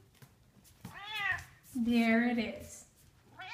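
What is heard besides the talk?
cat meowing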